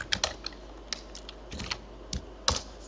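Someone types on a computer keyboard while entering an Excel formula. The keystrokes come in short, irregular bursts, close and fairly quiet, over a faint room hiss, with no voice.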